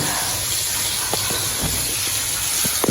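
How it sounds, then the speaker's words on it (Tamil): A steady loud sizzling hiss of food frying in hot oil in a Jaffna kitchen, with occasional pops and crackles and no talking. "இது நல்லா பொரியுது"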